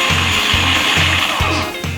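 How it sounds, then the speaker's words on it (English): A food processor pulses a paste of garlic, anchovy and rosemary in short repeated bursts, about five quick whirring pulses at an even rhythm, loud and close with a steady motor hum throughout and no talking. "Lid goes on, and we want to kind of pulse this or mix it till it's really quite pasty."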